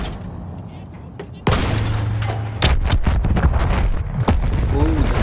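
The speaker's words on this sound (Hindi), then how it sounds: "ओह धमाका, एमिनेशन रखा था शायद इन लोगों ने यहाँ पे।" A sudden loud explosion in Battlefield 1, likely stored ammunition, bursts in after a quieter stretch, followed by a rapid series of gunshot-like bangs and booms.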